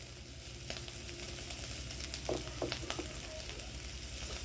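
Potatoes sizzle steadily in oil in a kadai as salt goes in. A constant hiss fills the background, broken by a few soft clinks and stirring scrapes near the middle.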